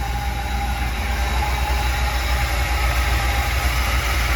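A 1995 Chevy G-20 van with throttle-body injection runs at idle, a constant engine rumble with a thin, steady belt squeal held on top, close and unbroken.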